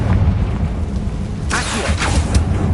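A Confringo blasting spell goes off in Hogwarts Legacy as a deep, rumbling boom with a few crackling bursts layered over it, loud and close.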